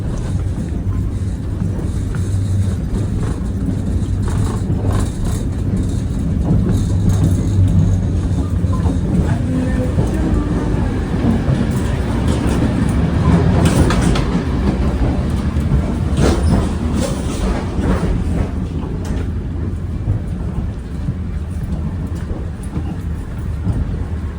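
A train rolls along the tracks in Iraq with a loud, continuous rumble and rhythmic clatter of wheels, heard from inside the carriage.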